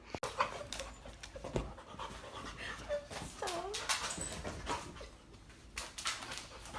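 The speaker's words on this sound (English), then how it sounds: "their dog is going a little crazy" An excited dog pants rapidly and lets out a few high whimpers, close by, with quiet sounds of the surrounding room in the background.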